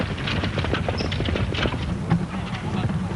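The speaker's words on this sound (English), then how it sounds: "These horses are having trouble pulling as a pair and hit the entrance gate into a hazard." Horses clip-clop as they pull a four-in-hand carriage through a driving competition hazard, the hoof beats quick and uneven beneath a steady voice.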